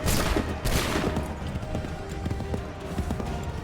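A musket volley in the video game Assassin's Creed 3, a loud dense crackle of many shots at once followed by scattered lighter pops and clatter over a continuous battlefield rumble, with no talk.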